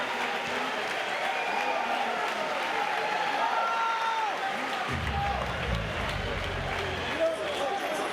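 A fight-night crowd at Elevate Fighting Championship 2 applauds and murmurs steadily after a bout, a broad sustained wash of clapping and voices, with a commentator talking over it.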